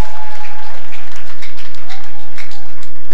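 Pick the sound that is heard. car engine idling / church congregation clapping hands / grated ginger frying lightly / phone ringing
church congregation clapping hands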